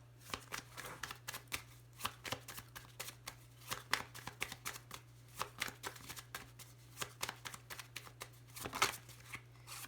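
Tarot cards are handled and laid on a table, with a long run of quick, close, papery slaps and shuffles in a steady irregular rhythm, heard alone.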